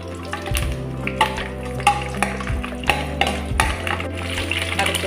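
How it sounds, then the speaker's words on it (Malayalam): Dried red chilies, curry leaves and urad dal fry in hot oil for a tomato chutney, a steady close sizzle with repeated clinks and scrapes of a spoon stirring against the pan, no voices. "എണ്ണ ചൂടായി കഴിഞ്ഞതിന് ശേഷം വറ്റൽ മുളക്, കറിവേപ്പില, ഉഴുന്ന് ഒക്കെ ഇട്ട് വഴറ്റുക."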